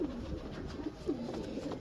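Lakha pigeons coo in soft, low repeated murmurs, several overlapping calls rolling close by under a steady faint background hum.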